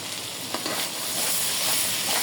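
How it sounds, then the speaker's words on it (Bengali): Mustard paste mixed with turmeric is stirred into hot oil for a mango pickle, a bright close sizzle that swells as the paste hits, with a soft scrape near the start. "তেলের সাথে মিশিয়ে দেব সর্ষা বাটা"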